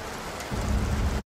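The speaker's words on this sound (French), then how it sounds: "La pluie." Heavy rain pours down in a dense, steady hiss that thickens midway before cutting off abruptly.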